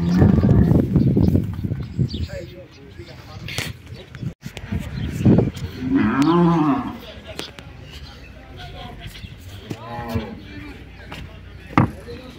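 Cattle in a slaughterhouse holding pen low and moo several times, with hoof clatter and knocks on the pen, while people talk nearby.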